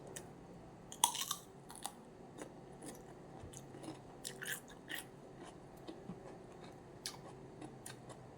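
Someone bites and chews crunchy fresh cucumber eaten with barbecue and mayonnaise, giving close, irregular crisp crunches and soft chewing that peak in a few louder bites.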